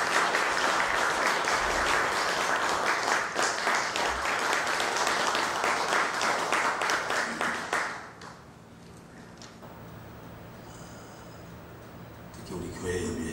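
Audience applause welcomes a church elder stepping up to give a lecture in Chicago on Japan's rightward shift, a loud, dense crowd clapping for about eight seconds before fading to a quiet room with faint murmuring.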